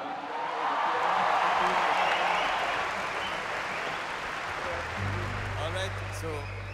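Concert crowd at a Royal College music show in Colombo applauding a singer, a broad wash of clapping and cheering that swells then tapers, followed by a sustained low musical tone beginning to play.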